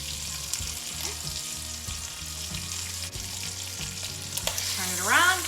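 Beef roast searing in a hot pan, a continuous close sizzle with brief bumps and knocks as the meat is turned, and a short squeak near the end.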